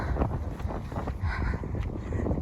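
Wind blows steadily across a microphone outdoors in the Troieshchyna district, a continuous rough buffeting rush that stays fairly loud for the whole stretch with no clear voices.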